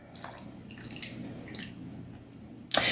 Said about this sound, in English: We're gonna add 4 tablespoons of water.